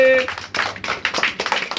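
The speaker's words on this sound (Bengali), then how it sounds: "একটু হাততালি দাও সবাই মিলে" A group of children clap their hands together in a short burst of uneven, overlapping claps, fairly close, after a brief tone at the start.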